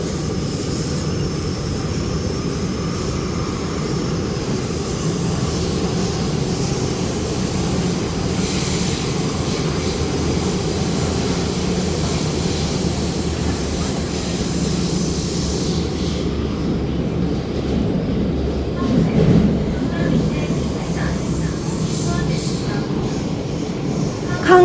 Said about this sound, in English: The train to LOHAS Park is arriving.